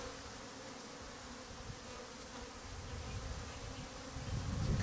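Honeybees buzzing around an open beehive during an inspection: a dense, steady swarm drone close by that grows a little louder toward the end, with no talking.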